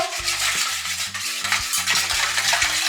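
Liquid mixture for sugar-free wholemeal apple cinnamon oat cookie dough gets whisked in a bowl, a rapid, steady clinking and scraping of utensil against the container, close up and without talk.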